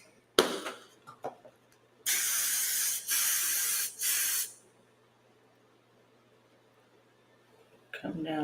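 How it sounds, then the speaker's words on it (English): Spray bottle misting onto hair during a frontal wig install, heard as a few short hissing bursts, one early and then three close together, with quiet sounds and handling between them. "And I'm also going to spray"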